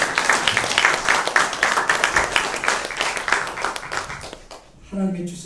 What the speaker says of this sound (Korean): 감사의 박수 올려드립니다.